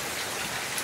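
Heavy tropical rain in Manaus pours down in a dense, steady hiss of drops hitting surfaces, loud and continuous with no other sounds.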